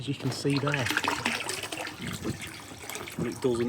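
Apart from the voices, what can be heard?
water draining out of DIY hot tub pool filter by gravity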